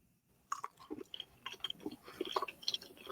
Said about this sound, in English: she manages to have the absolute most vile chewing sounds